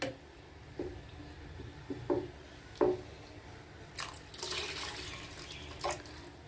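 Glass of water poured into a simmering tamarind dried-prawn curry in a pot, a few soft splashes and stirs followed by a longer gush of pouring water, close and moderately quiet.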